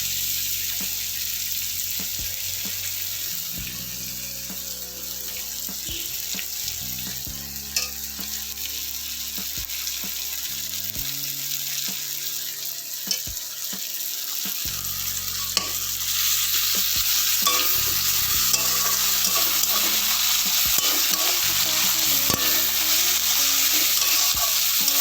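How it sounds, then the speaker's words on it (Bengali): Chopped tomato frying with onions in a pan, a constant loud sizzle with irregular scraping and knocking of a spoon as it is stirred, a low hum underneath and no voices. "এর মধ্যে আমি টমেটো কুচি দিয়ে দিচ্ছি। এটাকেও আমি একটু ভেজে নেব।"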